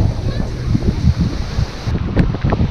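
Wind gusts loudly across a beach in Bonaire, buffeting the microphone with heavy, uneven low rumbling throughout.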